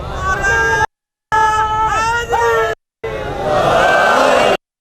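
A majlis crowd in a Shia gathering chants salawat in unison, three loud sustained swells of many voices with short pauses between them.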